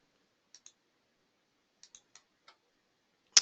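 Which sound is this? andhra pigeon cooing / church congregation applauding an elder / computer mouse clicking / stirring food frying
computer mouse clicking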